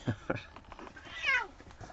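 A pet cat meows indoors, a couple of short close calls followed by a longer, rising and falling meow, fairly quiet and with no talking.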